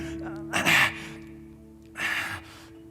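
A voice imitates heavy breathing with two strong, breathy gasping exhalations about a second and a half apart, close and loud over a low background hum.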